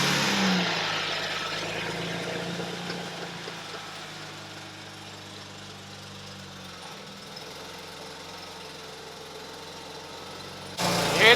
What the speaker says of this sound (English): now you just start the car and see if it starts